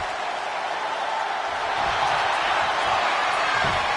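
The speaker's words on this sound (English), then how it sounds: "Taking a moment to get pumped off of this crowd's incredible energy." A wrestling arena crowd in the WWE 2K25 video game roars in a steady, dense wash of cheering and noise that swells slightly louder midway through, with no talking.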